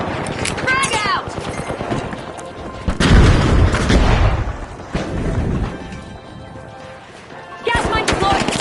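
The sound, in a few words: grenade explosion and gunfire in the video game The Finals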